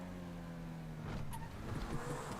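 A 2019 car driving in GTA Online, its steady engine drone rising with a gentle rev midway and a faint thump, heard from inside the game with no talk.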